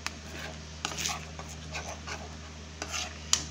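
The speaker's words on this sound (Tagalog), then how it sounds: "Haluin lang natin hanggang sa lumapot siya guys" Spoon stirring sweet and sour sauce of vinegar, salt and sugar in a pan as it thickens, soft scraping strokes with a few sharper clinks, light bubbling beneath, no talk.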